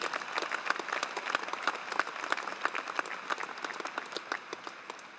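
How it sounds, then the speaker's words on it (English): Applause from the audience at an RMIT University graduation ceremony in Melbourne, a soft, even wash of many hands clapping at a moderate distance for several seconds. "Let's give them another round of applause."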